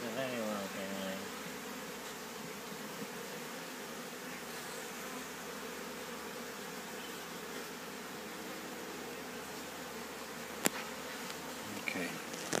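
Honey bees buzz around an open hive in a dense, continuous drone that stays steady throughout, close to the microphone, with a few faint clicks near the end.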